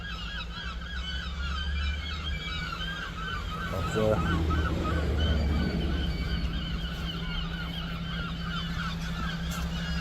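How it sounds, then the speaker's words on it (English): Gulls calling loudly and repeatedly in a busy small-town street, their harsh cries continuous through the clip over steady traffic rumble, with a brief spoken word near the start. "really, seagulls everywhere. So loud."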